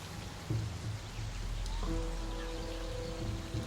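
Steady rain storm ambience with a dense, even hiss of falling drops, joined partway through by a sustained low tonal drone that runs to the end.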